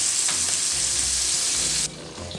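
Smithfield cherry wood smoked bacon frying in a pan, a steady dense sizzle that holds loud for about two seconds before dropping suddenly to a quieter crackle, with no talking.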